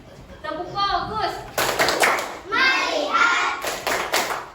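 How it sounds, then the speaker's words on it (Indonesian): Children in a Year 5 classroom chant and clap in rhythm during the 'tepuk fokus' focus routine, with sharp bursts of group hand claps between loud unison voices close by. "Tepuk fokus."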